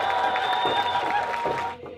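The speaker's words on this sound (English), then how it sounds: "So give yourselves a round of applause" Crowd at the Vancouver climate march applauding and cheering outdoors, a dense steady wash of clapping with whistles and shouts mixed in, fading toward the end.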